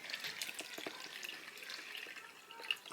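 Water runs from a kitchen tap into a vessel while vegan egg-substitute batter is prepared, a soft steady splashing stream with small drips and spatters, fairly quiet and close, with no voices.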